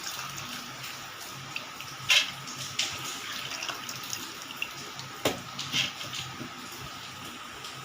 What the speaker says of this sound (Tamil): இப்போ நான் கொஞ்சோண்டு ஊற்றிக்கிறேங்க தண்ணி.